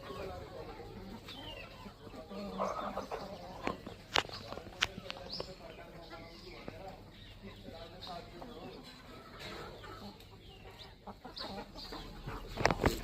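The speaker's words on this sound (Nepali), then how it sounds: "पालेको अर्काको कुखुरा" A neighbour's backyard chicken clucks in short scattered bursts close by, mixed with footsteps and light knocks, with people talking intermittently.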